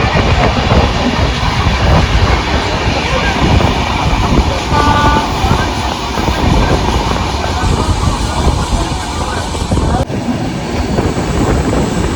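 Train running along a mountain railway between Hazur Sahib and Nanak Jhira, a loud, steady rumble and rattle of wheels heard from onboard, continuous throughout with some faint voices underneath.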